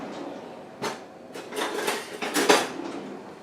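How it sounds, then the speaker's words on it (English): A spoon stirs home-canned salsa ingredients in a pot over medium heat, making several clanks and scrapes of metal against the pot that bunch together in quick bursts, fairly close and moderately loud. "I'm going to stir this up."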